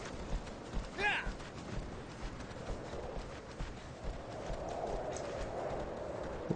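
A horse in Shadow of the Colossus clops along at a quick trot, soft rhythmic hoofbeats running under someone speaking quietly, with a brief bright chime early on.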